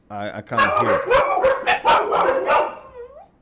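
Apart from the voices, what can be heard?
dogs whimpering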